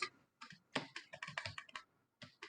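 Quick, close computer keyboard typing in uneven bursts of clicks with brief pauses between words, quiet and alone without any voice.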